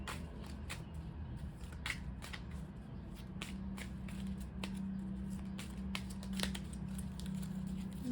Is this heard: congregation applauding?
no